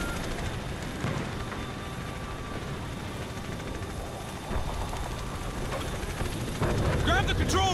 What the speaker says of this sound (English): Choppers are inbound